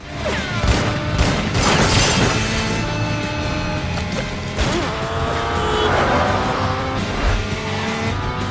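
Roaring engines race and whine continuously, with tire squeals and swooshing pass-bys layered in a loud, busy chase.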